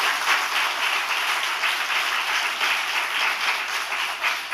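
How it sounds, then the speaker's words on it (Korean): Church congregation clapping during a lecture, a sustained even round of applause from many hands at moderate loudness, with no talk over it. "여러분 하나님께 박수 드리는 거 있대요"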